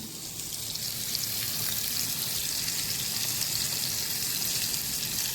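Fresh Bombay duck fish frying in a small pan, a loud, steady, close hiss of sizzling oil that continues throughout with no breaks and no talking.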